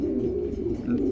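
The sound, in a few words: pigeons cooing, fantail pigeons for sale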